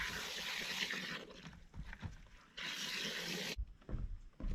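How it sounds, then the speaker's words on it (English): Water trickles and splashes as it drains out the bottom of a freshly watered Boston fern pot, with steady running and gurgling that stops and starts, close by. "Yep, it's just taking so much water. There we go, it's starting to run out the bottom now."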